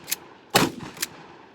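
Two sharp cracks from a pump action weapon, each one a loud bang followed by a brief mechanical clack as the action cycles, in quick succession with no voices.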